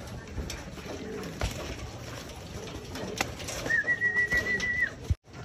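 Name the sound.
pigeons cooing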